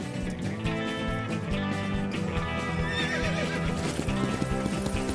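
Cartoon horses in an animated farm series neigh loudly and gallop with rapid, continuous hoofbeats, all set in a dense, busy soundtrack without speech.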